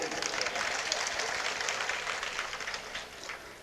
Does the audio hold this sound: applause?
yes